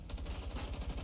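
Distant rapid gunfire in the war game Girls' Frontline 2, a fast, even rhythm of muffled low thuds, steady and alone throughout.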